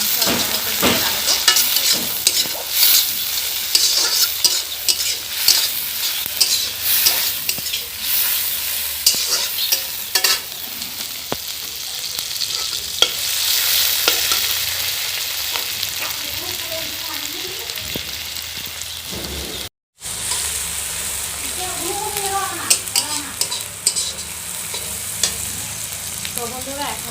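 Chicken and tomatoes frying in a pan for desi chicken curry, steady close sizzling with repeated scraping stirs throughout, a brief break partway, and faint voices now and then.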